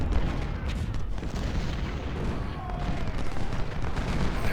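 Artillery fire in Ultimate General: Civil War at the Battle of Shiloh, Union guns including a 24-pounder, a dense, continuous rumble of booms and volleys with no distinct single shots.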